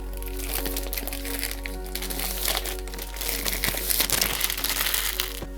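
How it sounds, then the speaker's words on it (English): Plastic wrapping on an Onyx Boox Nova 2 e-reader package crinkles and crackles continuously up close as it is unwrapped, growing busier toward the end. "Let's unwrap it and see what we get."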